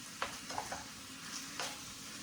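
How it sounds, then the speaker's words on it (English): Chicken pieces for Cajun chicken pasta sizzle softly in a pan, a faint steady fry with a few brief stirring clinks and scrapes. "We got the chicken sizzling now."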